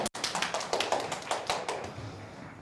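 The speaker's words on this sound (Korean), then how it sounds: "박수로 환영합시다" A small group in a church youth worship service claps to welcome a newcomer: a quick, close run of sharp hand claps that thins out and fades after about two seconds.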